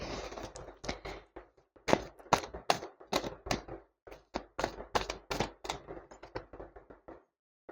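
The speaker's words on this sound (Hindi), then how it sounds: "ये वाले डेक से निकालते हैं।" Tarot cards being drawn from a deck make a close series of crisp taps, flicks and soft snaps in irregular quick succession, with no talking over them.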